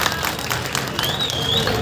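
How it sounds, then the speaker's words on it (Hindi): A crowd at an election campaign meeting in Shimla Park claps in a dense, continuous wash of applause that fills the short moment, loud and close, with a faint murmur of voices mixed in. "एक बार ताली बजाकर बताया"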